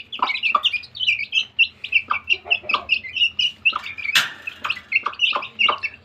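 Hen clucking among chicks in a backyard coop during feeding, with repeated short clucks and high chick peeps in a busy, steady rhythm, fairly close and clear with no talk.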